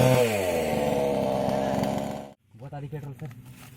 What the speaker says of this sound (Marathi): तिकडं मशीन चालू आहे तर आवाज आता आपला कमी येईल